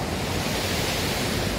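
A waterfall roars with a steady, dense rush of falling water that stays constant and fairly loud throughout, with no voices.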